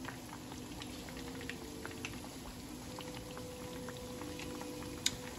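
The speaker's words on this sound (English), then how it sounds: "Notice that it's kind of browning the meat" Ground beef browning alongside a taco shell in a pan gives a steady, dense sizzle with scattered crackles and one sharper pop near the end, close and continuous with no talking.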